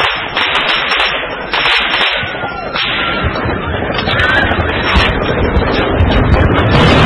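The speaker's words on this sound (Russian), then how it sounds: "стрельба практически рядом с нами" Dense, continuous gunfire crackles close by in Beslan, North Ossetia, on 3 September 2004, rapid overlapping shots forming a loud, rolling barrage with no pause.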